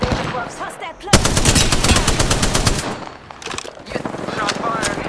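Rapid automatic gunfire from the Apex Legends video game, loud bursts of rattling shots with brief pauses, under a voice speaking callouts.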